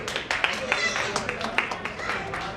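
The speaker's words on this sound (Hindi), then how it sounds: "जोरदार तालियां मार दीजिए" An audience at a foundation's anniversary event claps briefly, with scattered, uneven hand claps under continuing talk.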